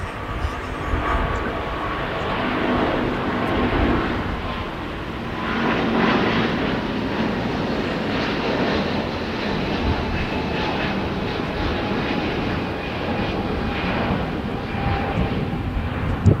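United Airlines flight 1170 jet departing LAX for Honolulu; a loud, sustained engine roar that swells and holds steady for the whole stretch as the airliner takes off and climbs.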